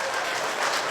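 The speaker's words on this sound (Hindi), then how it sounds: "भाई, एक बार इकट्ठे बजाओ सारे ताली, जोरदार" Audience applause at a Hindi poetry gathering (kavi sammelan): dense, steady clapping from a crowd, fairly loud and continuous throughout the brief moment.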